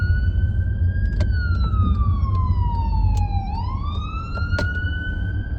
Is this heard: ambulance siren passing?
yes